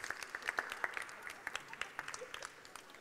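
An audience claps after a card magic trick at a live show, with scattered, uneven hand claps in a short burst of moderate applause that tapers off.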